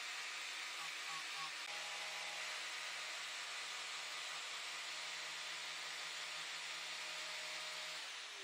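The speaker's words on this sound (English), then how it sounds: "I'm going to use the angle grinder to make those lines meet through the middle" An angle grinder hogs wood from a scratch-built guitar body to shape a comfort carve, a loud, steady, unbroken whine and rush of grinding that runs the whole time.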